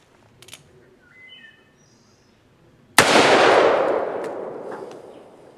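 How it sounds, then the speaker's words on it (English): A single loud, sharp blast from a Hawes Western Marshal revolver firing a full-power 44 Magnum jacketed soft point at a honeydew melon, ringing out and decaying over a couple of seconds after a quiet lead-in with faint birdsong. "we're going to shoot it with the Hawes Western Marshal, but instead of the black powder, we are going to be using full power 44 Magnum jacketed soft points"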